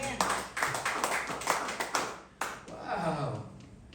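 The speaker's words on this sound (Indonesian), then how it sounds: "Tepuk tangan buat Tuhan." Church congregation clapping in rhythmic bursts during an Indonesian worship service, fairly close and mixed with voices and music-like tones, with a brief dip before clapping and cheering resume.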